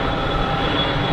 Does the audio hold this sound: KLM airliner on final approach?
yes